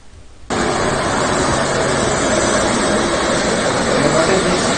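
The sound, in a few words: helicopter taking off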